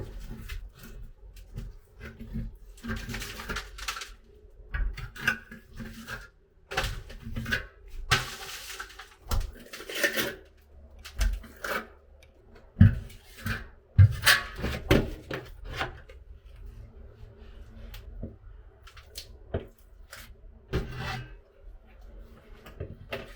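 A trowel mixing and spreading compound in a tight space during demolition and repair work, heard as irregular scraping, knocking and tapping strokes that come and go in uneven bursts at close range, with occasional quiet talk.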